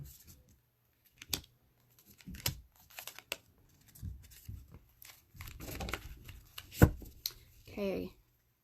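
Cards counted out by hand during a live reading: short papery flicks and snaps in irregular bursts, soft and close, with some quiet speech between them.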